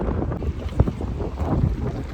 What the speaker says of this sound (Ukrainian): Просто вітрюган страшний